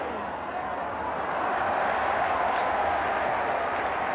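Football crowd at Ipswich, home fans with many Sunderland supporters, a steady, broad murmur and roar that swells slightly, heard from a distance under a commentator's voice.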